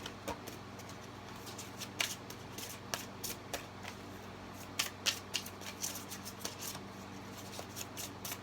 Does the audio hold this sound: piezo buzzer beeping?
no